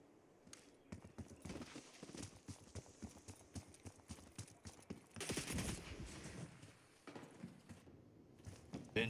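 Gunfire in the video game Epidemic: fast, rapid bursts of shots crack through the scene at close range. The volleys repeat steadily, then rise into a louder cluster near the middle.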